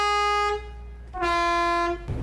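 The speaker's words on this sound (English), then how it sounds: "City and air horns must function properly to warn other traffic of your presence." Two loud blasts of a truck air horn, the first short, the second longer, each a bright harmonic tone.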